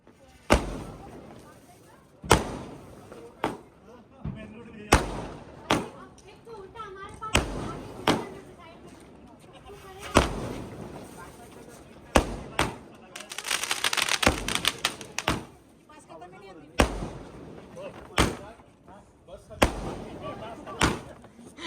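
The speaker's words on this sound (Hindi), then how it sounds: "चलिए पटाखे का नाम क्या देखिए, गाजा एक्सप्रेस" Gaja Express firecrackers bursting during Diwali, sharp loud cracks going off one after another at irregular intervals, with a crackling burst in the middle and people talking between the blasts.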